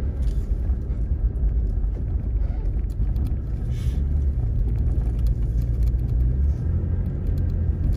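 A vehicle drives along a beach at low tide, giving a steady, close, loud low rumble with wind buffeting, and no talk over it.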